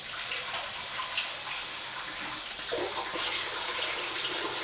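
Tap water runs steadily from a faucet for rinsing, giving a continuous close hiss and splash with a slight shift in flow partway through.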